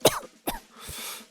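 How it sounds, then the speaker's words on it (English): Two sharp coughs close by from a person with a cold, then a breathy exhale, quiet and brief. "Can't stop coughing."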